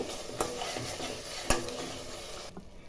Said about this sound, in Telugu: కలుపుతానే ఉండాలండి, అడుగంటకుండా చూసుకోవాలి.